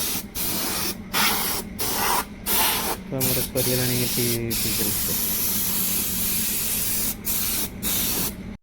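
Water spray hissing steadily as it washes a Bajaj Pulsar 125 motorcycle, with brief gaps where the spray stops and someone talking over it.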